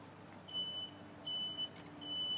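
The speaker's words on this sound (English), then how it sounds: "The smoke detector's going." Three thin, high electronic beeps from a smoke detector repeat at a steady interval over a low background rumble during a firefighter training exercise.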